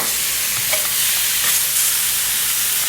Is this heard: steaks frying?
yes